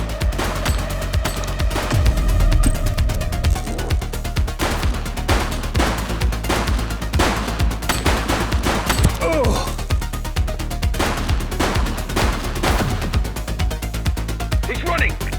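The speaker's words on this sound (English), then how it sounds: "He's shooting!" Rapid bursts of gunfire from a police shootout in The Precinct video game, repeated cracks and volleys running nearly nonstop at steady loudness, with talk over the top.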